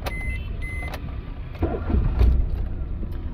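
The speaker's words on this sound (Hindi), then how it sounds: "तो गाड़ी को वापस से बंद करके स्टार्ट करते हैं" A Maruti Alto K10 car with a long-cranking start problem and a P0340 camshaft sensor fault is switched off and restarted. A few faint beeps come first, then the engine fires midway and settles into a low, close rumble.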